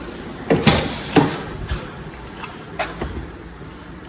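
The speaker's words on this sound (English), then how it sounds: "Let me unlock the doors here." Door locks on a Mercury Marauder clunk several times in a row, sharp mechanical thumps spaced across a few seconds in a quiet interior.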